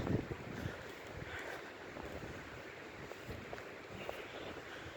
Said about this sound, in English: all you're pretty much just going to hear is the wind